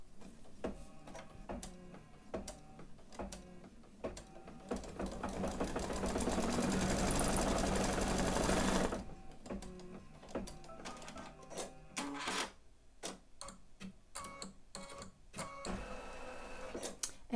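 A machine embroidery unit stitches a single magnet placement line, its needle chattering in a fast steady rhythm with a louder, denser burst midway, close and alone without speech.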